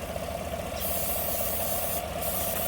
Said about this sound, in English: I'm spraying it right now as we speak. And I'm going up and down the intake.